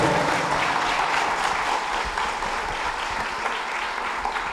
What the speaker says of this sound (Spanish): Quiero que le brindemos entonces un aplauso al escritor William Ospina.